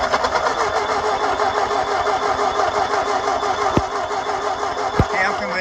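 A 1939 Ford tractor engine, left standing in a field for over 20 years, is cranked over repeatedly without starting, giving a steady rhythmic churning with a couple of sharp clicks near the end.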